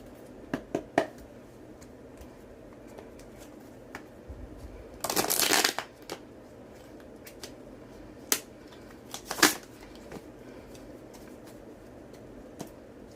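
Tarot cards are shuffled in bursts of quick riffling and flicking, including one loud sustained riffle and a few sharp card snaps, close and crisp, with no talking.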